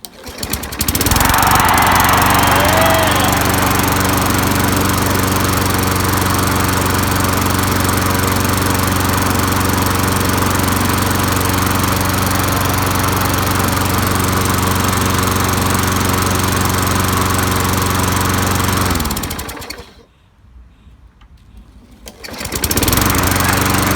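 A Craftsman 22-inch push mulching mower with a Tecumseh engine runs loud and steady at close range for most of the time, then cuts out abruptly, falls briefly quiet and sputters back up.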